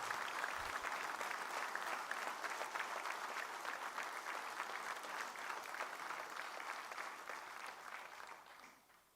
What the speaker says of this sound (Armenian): Ես առաջարկում եմ ծափահարություններով հիշել նրանց